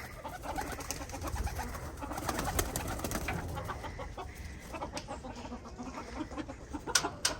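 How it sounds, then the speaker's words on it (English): Pigeons in a homestead aviary coo and flutter at close range, with soft bird calls and scattered clucks over a busy low rumble and occasional sharp knocks. "Here we are by the pigeon aviary."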